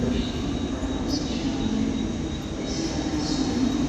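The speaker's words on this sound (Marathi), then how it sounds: "तर तुम्ही बघू शकता आता सी एस टीची ट्रेन आलेली" A commuter train bound for CST pulls into a station platform, a loud, steady rumble of wheels and carriages filling the whole stretch with faint high squeals above.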